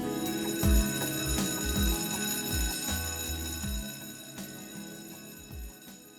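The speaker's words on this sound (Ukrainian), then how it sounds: "Хай нас зустріне невід'ємний друг учнів та учителів, шкільний дзвінок, голос якого відлунюватиме в пам'яті завжди" An electric school bell rings continuously for several seconds with a steady, harmonic metallic tone, fairly loud and unbroken, with no voices.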